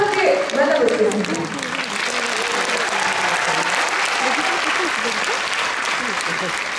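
A large concert hall audience at a navy anniversary music concert claps and cheers loudly and continuously, a dense wash of applause with crowd voices and whoops mixed in.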